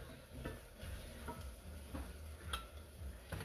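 Onions sizzle in a hot pan for oats khichdi, with a spoon stirring and scraping at intervals over a soft continuous frying hiss.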